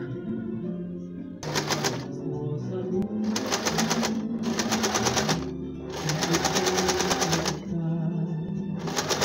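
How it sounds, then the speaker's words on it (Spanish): Sewing machine stitching a straight seam around a placemat lining in a textile recycling workshop, close rapid mechanical chattering in several bursts separated by short pauses, over a quiet background. "me voy con costura recta por todo"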